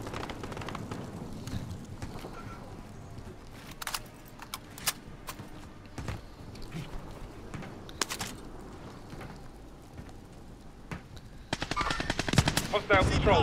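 Gunfire in a team shooter game: scattered single shots and short automatic bursts through the first half, then a denser rapid burst near the end, set against steady game ambience with faint voices now and then.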